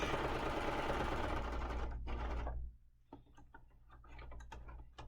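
A sewing machine stitches binding onto a quilt in a loud, dense, continuous whir for about two and a half seconds, then stops and gives way to scattered clicks and light handling noises.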